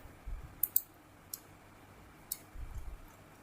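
Computer keys pressed while working in Blender: a handful of sharp, isolated clicks at an uneven pace, close and fairly quiet over a low hum.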